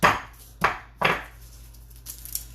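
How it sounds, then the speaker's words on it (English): Three sharp thuds of a knife blade bashing garlic cloves on a cutting board while making vinaigrette, close and loud, spaced about half a second apart, followed by faint light taps. "So usually you take a knife, but you can also take something hard. Just bash it a couple times."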